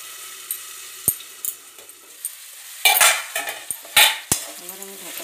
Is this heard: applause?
no